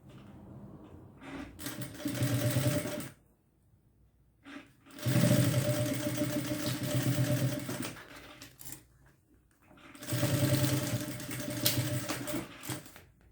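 A sewing machine stitches binding onto a thermal backpack in three loud, steady bursts, separated by short pauses.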